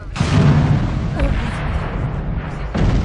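Explosions in the video game Aliens: Colonial Marines give heavy booming blasts with a rumbling low-end roar, loud and sustained, and a fresh burst near the end.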